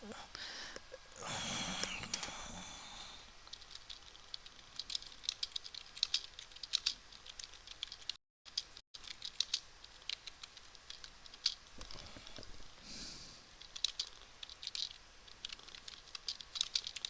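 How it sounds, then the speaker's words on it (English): Fingers type on a computer keyboard in a long run of light, irregular clicks, fairly quiet and close, with a brief burst of talking early on and a short gap midway. "I'm gonna type the story in."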